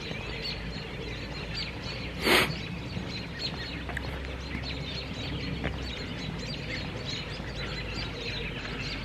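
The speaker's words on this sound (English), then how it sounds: "Did you guys hear all these birds?" Outdoor birds call and chirp steadily in a tree, fairly distant, with one brief louder burst partway through and no talking.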